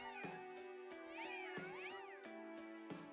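A cat in the game Urban Jungle meows repeatedly as it is petted, a series of clear, close, drawn-out meows over soft, steady background game music, with no talking.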